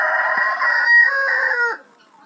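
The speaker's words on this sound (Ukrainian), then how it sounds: "Цей крик, що ви чуєте на фоні, це крик цесарок." Guineafowl calling in a farmyard, one loud, sustained harsh cry that holds for nearly two seconds before cutting off, heard alone and close.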